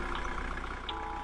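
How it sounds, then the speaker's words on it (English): A loud car passes outside a window, a steady engine rumble and road noise filling the brief moment without speech. "Why the car is so loud?"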